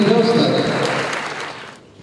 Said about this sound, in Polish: Gorące brawa na telewizji Brzostek.